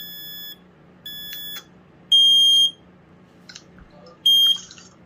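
A FireX ADC smoke alarm from 2007 chirps and beeps in short bursts during its ramp-up test, a few piercing tones spaced about a second apart, with faint background hum.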